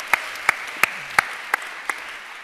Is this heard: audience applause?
yes